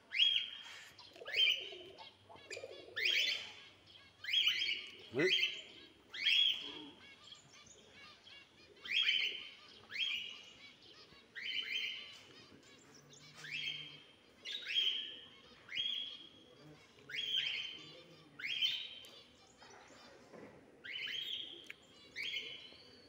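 American parrots screech over and over, loud close calls repeating in a steady rhythm about once a second with no voices.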